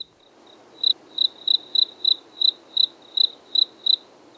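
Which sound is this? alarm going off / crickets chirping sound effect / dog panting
crickets chirping sound effect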